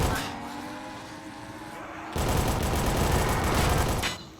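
Gunfire in a zombie video game: a dense, loud burst of rapid automatic shots running for about two seconds over a steady background rumble, then cutting off abruptly.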